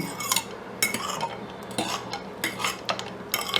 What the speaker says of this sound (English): we'll give it a stir. Get the garlic kind of infusing